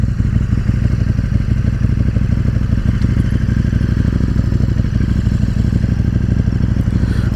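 Engine of a 2017 KTM 1290 Super Duke R motorcycle rumbles loud and close in a steady, continuous throb, with wind buffeting and no speech.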